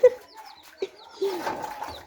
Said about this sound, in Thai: โอ้ยไก่